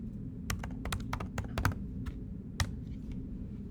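Keys clatter on a computer keyboard while someone enters input for a command-line program, in quick irregular bursts of close, crisp clicks with short pauses between them and no talking.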